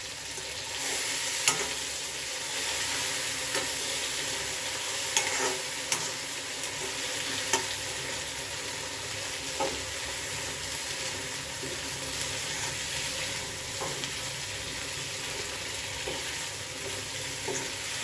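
Eggplant (brinjal) frying in oil with a steady, bright sizzle throughout, plus occasional clicks of stirring against the pan, close and even in level.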